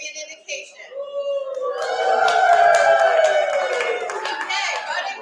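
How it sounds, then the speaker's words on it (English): At an indoor fundraiser gala, a room full of people cheers and whoops to vote, the roar swelling after a moment of shouting voices and staying loud to the end, with scattered claps. "So everyone in favor of number 1, put up your hand, cheer wildly"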